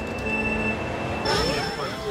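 A train in the Mario Kart Wii racing game rolls past with a steady rumble, a high squealing whistle and rising metallic tones as it draws near, heard over continuous game sound.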